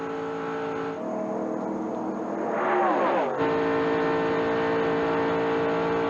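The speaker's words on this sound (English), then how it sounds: "Will it be Dale Jarrett in the Goodies 300 in 1996? We're on the last lap" Stock race cars on the final lap of the 1996 Goodies 300, a steady engine drone with a louder surge and pitch sweep as cars pass close by midway, then continuing at a constant roar.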